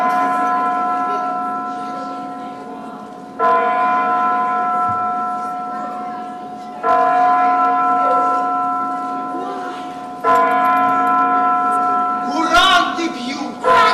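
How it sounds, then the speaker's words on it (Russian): Kremlin clock chimes strike at New Year, four loud ringing bell tolls spaced about three and a half seconds apart, each decaying slowly, with people talking over the last strike. "Куранты бьют!"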